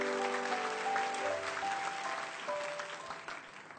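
Sustained applause from a church congregation fills the space at a steady level, with some faint tonal hum under the clapping and no talk.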